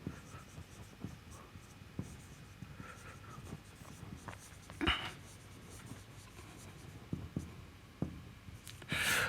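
An equation is written out by hand in a quiet room: soft, close scratchy strokes come in short bursts with brief pauses between them.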